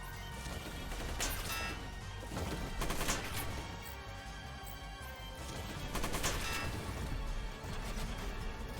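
Missiles fire in the tactical mech game Front Mission, a loud run of blasts and crashing impacts in repeated bursts against a dense battle din, with no talking.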